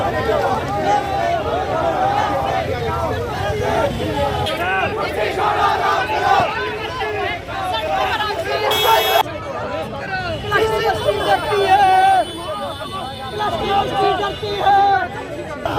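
Students protest over college admissions against the higher education authority, six days into their demonstration. A loud, dense crowd chants and shouts slogans continuously, with voices overlapping throughout.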